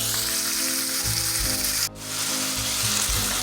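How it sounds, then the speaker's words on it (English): Ground beef sizzles and fries loudly in a pan for a baked ziti, a steady crackling spatter broken by brief stirring scrapes and one short dip as the meat is mixed. "add our ground beef in, and we're just going to mix that thoroughly"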